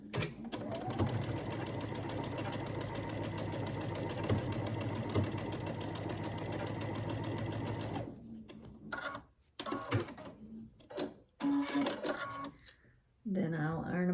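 Sewing machine stitching quilt block pieces together, a loud continuous rapid mechanical chatter for about eight seconds, then it stops and a person talks amid light handling sounds.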